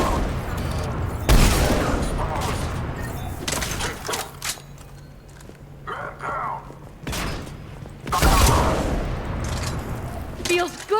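Loud bursts of video game gunfire and heavy booms hit in several clusters, separated by quieter stretches of machinery and combat ambience, with some voices under the action.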